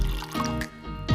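Apple cider vinegar poured into a pot gives a brief, close liquid splash and trickle lasting about a second, with no talk.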